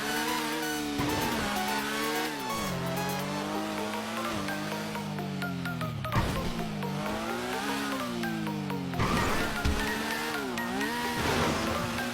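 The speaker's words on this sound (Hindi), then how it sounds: "अब देखो मैं तुम्हें अपने मोटर बाइक की पावर दिखाता हूँ, ये कितना भागता है। चल बाइक स्टार्ट हो जाओ।" A motorbike engine starts and revs hard, its loud, close pitch climbing and falling in repeated surges across the whole stretch with no talking.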